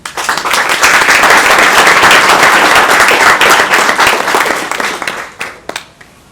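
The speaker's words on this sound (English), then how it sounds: "Thank you, Rashmi, and can we have a huge round of applause for the launch of the 2 Kannada books as well." A crowd at a book launch bursts into loud, dense applause that holds steady, then thins into scattered claps before fading out.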